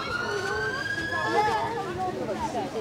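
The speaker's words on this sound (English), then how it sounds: "Oh, I love the American sirens" American police car sirens from State Trooper Dodge Chargers wail with rising and falling tones, steady and fairly loud throughout, with people talking over them.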